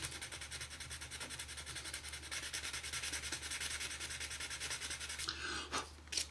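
Sanding sticks rubbing on a Trumpeter 1/32 AV-8B Harrier plastic model kit, a continuous close, dry scratchy rasp with steady back-and-forth strokes that briefly stops and rustles near the end.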